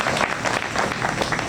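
Applause from the audience at a Hindi poetry recital (kavi sammelan) at a fair in Chhatarpur, a dense, steady wash of many hands clapping that lasts the whole moment.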